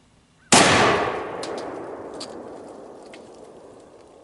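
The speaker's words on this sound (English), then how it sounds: "let's shoot that canister and just see what kind of hole this thing will play in it." A single loud, sharp report from a Savage Axis .30-06 rifle fired at a canister outdoors, with a long rolling echo that fades away over several seconds.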